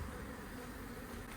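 Honey bees from a five-year-old colony being relocated buzz in a dense, continuous drone, close and steady throughout with no voices.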